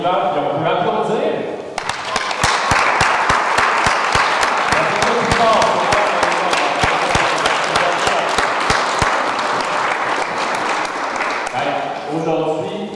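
An Easter church congregation breaks into loud, sustained applause of many hands clapping, rising abruptly after a brief spoken line and fading out near the end as talk resumes.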